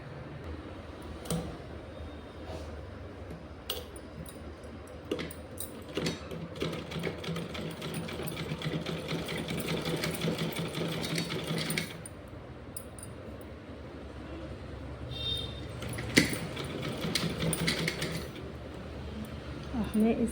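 A sewing machine stitches lace onto a small velvet dress, its needle running in quick mechanical bursts with pauses between, close by, while someone talks over it.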